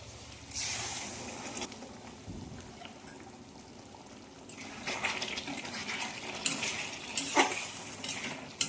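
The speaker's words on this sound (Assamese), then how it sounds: "এইখিনি ঢাকন এখন মাৰি থ'লোঁ অলপ সময়।" Metal clatter of a lid and pot while cooking capsicum chicken, with scraping and clinks, a quieter stretch, then several sharp knocks and rattles toward the end.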